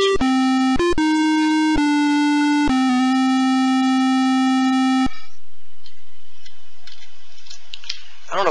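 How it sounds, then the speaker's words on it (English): Loud, buzzy square-wave game music from Space Quest 2 plays a run of sustained synthetic notes, then cuts off into quieter clattering noise. "I don't know any way to turn the music down on this thing. The music is so loud."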